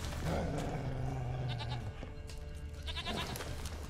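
A goat bleats in short, repeated wavering calls in The Witcher 3, over a dense, steady background of game ambience and music.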